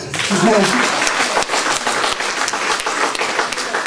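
Applause from an audience at an Afro evening event in honour of a mayor, dense, continuous clapping that fills the clip, with a voice briefly audible near the start.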